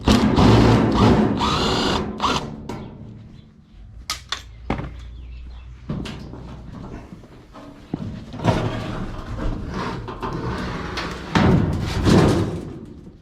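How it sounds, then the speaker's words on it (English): Power-tool and hand-tool work on a scrapped dryer: bursts of drill whirring, metallic clanks and knocks as bolts and screws come out, loud and close, with quieter pauses between. "Try taking off these bolts. These screws here."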